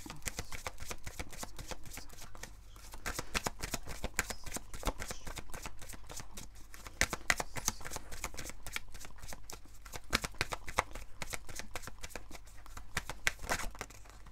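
Oracle cards are shuffled by hand for a tarot reading, a dense, continuous papery riffling and flicking that runs steadily throughout, close and fairly loud with no talking.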